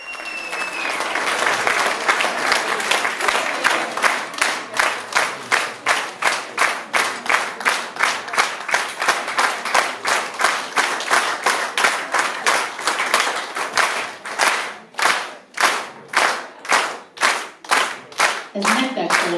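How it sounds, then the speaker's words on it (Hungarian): An audience gives a zither orchestra a standing ovation at its 20th-anniversary concert: dense, sustained applause fills the hall, growing into loud rhythmic clapping in unison toward the end. "a közönség állva és vastapssal köszöntötte a zenekart"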